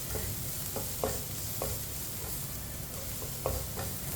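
Onions cooking over medium heat in a pan, stirred steadily with a spoon: a soft continuous sizzle with a few sharper scraping clicks of the spoon against the pan.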